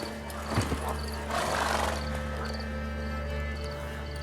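Horse in The Witcher 3 game whinnying once with a sharp burst, followed by soft clip-clop hoofbeats under ambient game music, moderately close and with no talking.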